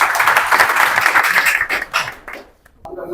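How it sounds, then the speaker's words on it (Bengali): An audience in a Bangladeshi gathering gives a burst of steady, dense hand clapping that swells and then fades out over about two and a half seconds, followed by a brief voice. "একটা হাততালি দেন সবাই"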